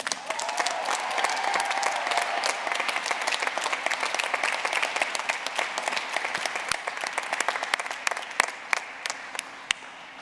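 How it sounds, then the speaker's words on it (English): Sustained audience applause at a graduate commencement ceremony, a steady dense wash of many hands clapping from a large crowd, continuing evenly for the whole stretch with no voices. "Let's give them another round of applause."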